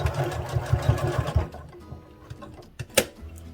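A sewing machine stitching fabric for a toy bear, a close rapid mechanical whir of stitching that slows and stops partway, followed by a few sharp clicks.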